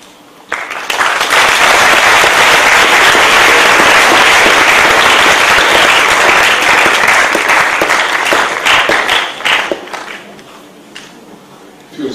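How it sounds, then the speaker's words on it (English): A lecture audience at an international school gives a long, loud burst of applause after a professor's answer, dense clapping sustained for around nine seconds before thinning out and fading. "If you save on the applause, you'll have time for more questions"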